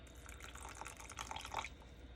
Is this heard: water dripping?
yes